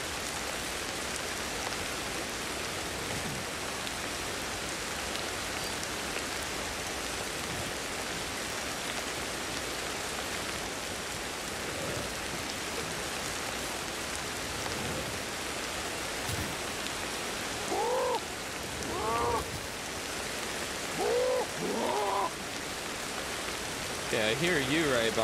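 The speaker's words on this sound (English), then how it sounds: "Gee, the rain is really loud." Steady heavy rain hisses throughout a prehistoric jungle scene in the game Ancestors: The Humankind Odyssey, loud and constant, with a few short creature-like calls rising near the end.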